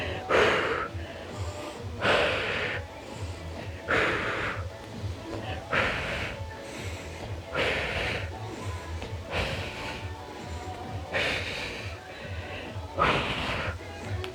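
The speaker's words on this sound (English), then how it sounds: "Exhale, lift, inhale, back." Forceful rhythmic breaths during an upper-body fitball-and-weights workout, with a sharp exhale burst about every two seconds between quieter inhales, close to the microphone and steady throughout.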